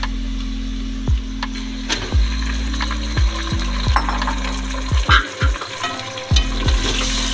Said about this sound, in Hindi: गोश्त डाल के इसको उस वक्त तक हम फ्राई करेंगे जब तक कि इसका कलर चेंज ना हो जाए